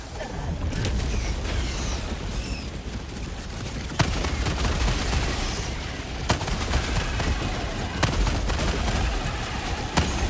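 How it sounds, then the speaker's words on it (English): An orbital barrage strikes in Helldivers 2: repeated sharp blasts land at intervals through a dense, continuous roar of battle and mechanical noise, loud and close. "Firing orbital barrage, clear the area."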